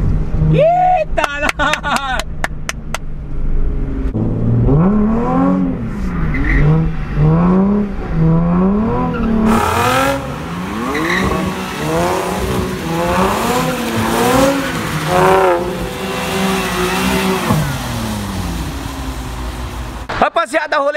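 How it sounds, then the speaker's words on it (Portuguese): A Nissan 370Z and a BMW M3 drift on a track, their loud engines revving up and down in rising and falling sweeps. Tire squeal runs through the revs, and brief voices and shouts come through early on. "A gente andando na pista, fazendo drift."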